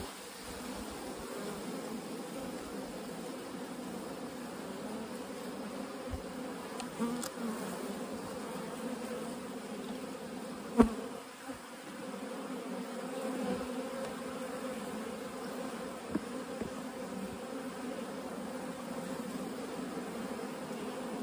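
Honey bees from a late-season bulk split colony hum in a steady, dense buzz that holds evenly throughout, with a few closer individual passes standing out briefly and no talking.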